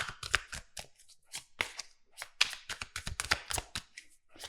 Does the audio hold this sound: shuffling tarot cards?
yes